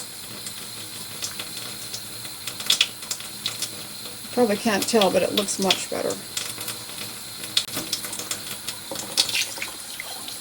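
A shaving brush is rinsed under a running tap: a steady hiss of water with splashing and swishing bursts, as someone talks over it.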